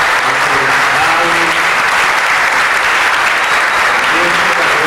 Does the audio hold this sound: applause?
yes